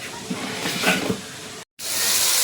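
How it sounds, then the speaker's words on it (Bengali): Bitter gourd and potato pieces fry in a pan, giving a steady, close hiss and sizzle with faint stirring; a brief cut of silence breaks it before the frying resumes louder. "আর এইদিকে উচ্ছে আলু ভাজা হচ্ছে"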